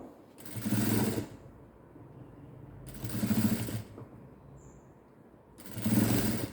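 A sewing machine stitches silk piping with a narrow border along a curved fabric edge, running in three steady bursts with short pauses between them, up close and with no talk.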